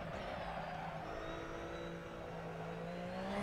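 A race car at full throttle on the Imola circuit in Assetto Corsa, a steady high-revving engine note climbing slowly and holding, close and fairly quiet, without speech.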